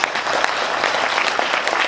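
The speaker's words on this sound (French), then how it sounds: "Évidemment, vous pouvez nous applaudir." Guests at a French deputy's New Year greetings event applaud, a brief burst of dense, fairly loud clapping that stays steady from start to finish.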